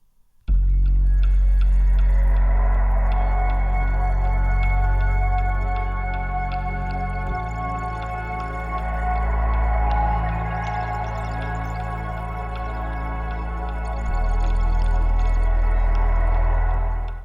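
Granular synth texture from the Lunacy BEAM plugin: a sustained, shimmering drone with a deep low bed that shifts twice and grainy upper partials flickering throughout, steady and loud for the whole stretch with no talk.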